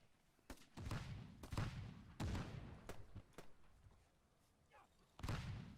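A grenade explodes in the WWII Online battle game, one of several heavy booming blasts that stand out among sharp gunfire cracks in a busy, echoing firefight.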